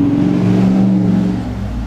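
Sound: neighbor's truck revving as it passes the house

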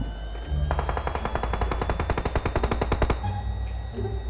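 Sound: gunfire from a battle royale video game

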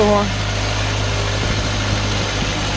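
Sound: Orion RT 404 tractor engine idling while loading

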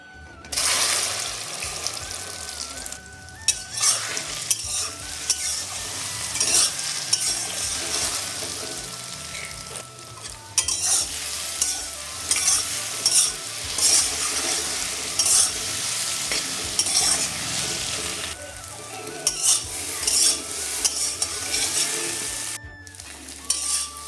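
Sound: soybean chunks frying in oil with egg

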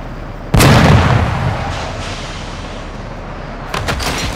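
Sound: explosion in a video game

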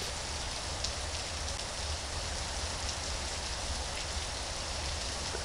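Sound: rain falling in Slenderbear, a Minecraft-style video game

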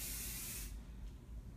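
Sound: skin care mist sprayed from a spray bottle

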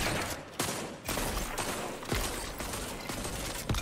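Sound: gunfire in a video game

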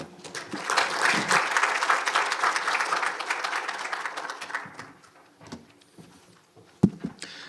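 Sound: audience applause welcoming speaker

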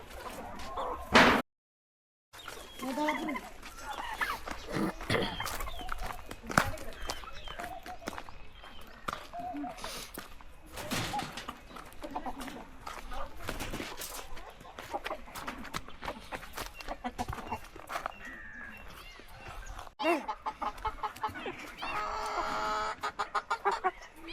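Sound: chickens clucking

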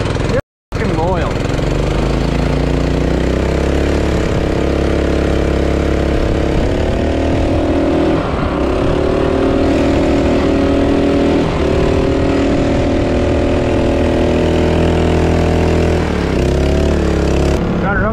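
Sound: 1992 Kenworth truck engine started and idling

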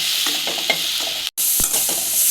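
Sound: capsicum and soya chunks frying with spice powder

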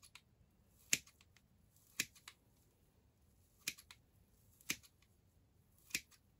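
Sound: secateurs cutting sphagnum moss

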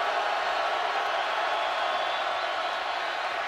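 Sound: loud sellout football stadium crowd noise

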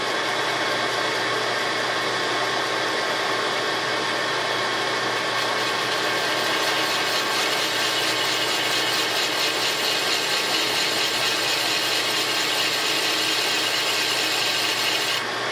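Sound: machining a chamfer on a Renault H-beam con rod

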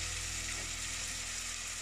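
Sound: onion frying in a pan with chicken juices, medium heat

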